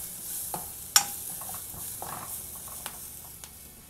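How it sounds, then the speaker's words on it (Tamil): Turmeric powder being sautéed in a pan, a soft low sizzle with light stirring scrapes and one sharp clink of the spoon near the start, close and fairly quiet. "இப்போ இந்த மஞ்சளோட பச்சை வாசம் போகிற வரைக்கும் இதை கொஞ்சமாக வதக்கிடலாம்."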